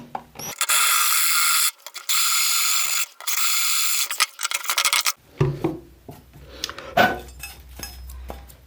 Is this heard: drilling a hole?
yes